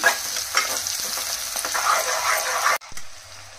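Onions fry in foaming peanut oil with a dense, close sizzle and occasional stirring scrapes, cutting off abruptly near the end before a quieter sizzle resumes.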